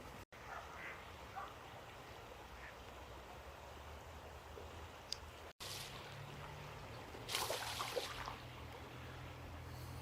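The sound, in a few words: ducks quacking by a stream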